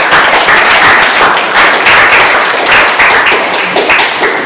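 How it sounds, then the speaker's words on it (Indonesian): A classroom audience claps for a student group after its biology presentation, a dense, steady patter of hands lasting several seconds with no talking over it. "Saya kasih tepuk tangan untuk kelompok kedua ya."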